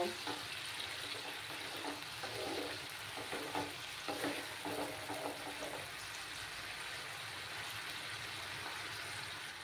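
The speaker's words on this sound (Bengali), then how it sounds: "টমেটো কাঁচা গন্ধটা না দেওয়া অবধি আমি ভালো করে ভেজে নেব।" Chopped tomatoes sizzle and crackle in a hot pan for a pabda fish jhol, with a continuous frying hiss and a run of stirring scrapes near the middle, close by and without speech.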